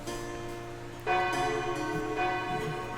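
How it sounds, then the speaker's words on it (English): School warning bell ringing in a visual novel game as a student enters the classroom, a sustained resonant bell tone with strong overtones that swells louder after a second and keeps ringing over a steady background drone. "I enter the classroom as the warning bell rings."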